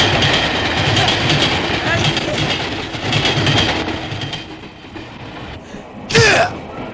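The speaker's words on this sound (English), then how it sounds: "there is also a cool momentary train sequence" A train rumbles along steadily with broadband rolling noise, voices and other sounds mixed in, and a brief sharp screech near the end.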